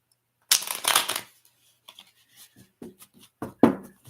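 A deck of playing cards being shuffled, a riffle burst followed by several softer, sparse card taps and shuffles at close range.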